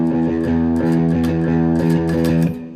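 Distorted electric surf guitar chugs a steady, driving alternate-picked rhythm from Misirlou with a galloping accent pattern, loud and continuous.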